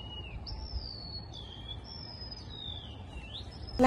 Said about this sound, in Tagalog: Newfound friends ko, yung mga ibon.